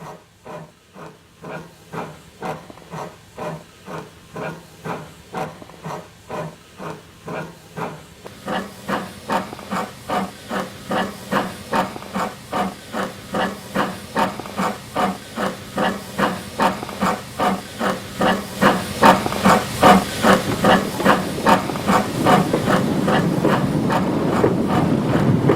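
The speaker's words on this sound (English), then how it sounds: "The Barclay appears again on the southern section of the line, with another load on its 4-mile trip to Aberystwyth" A Barclay steam locomotive on a Welsh industrial line hauls a load, its rhythmic exhaust chuffs and hissing steam beats growing steadily louder and closer as it approaches.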